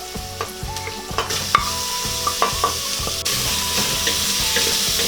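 Onion sautéing in a pan with garlic and ginger for beef pares: a steady, close oil sizzle with rhythmic scrapes and knocks of stirring, and no voices.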